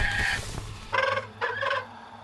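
A bird calls in The Lord of the Rings: Gollum video game, a low rumbling note followed by two short, bright, warbling calls in quick succession, fairly close, over a soft game ambience with no talking.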